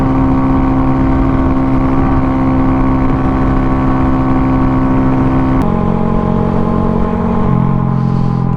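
A Honda Grom motorcycle fitted with dirt tires rides fast, its engine droning loud and steady with a constant buzzing tire roar and a brief shift in pitch partway through.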